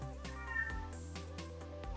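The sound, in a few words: cat meowing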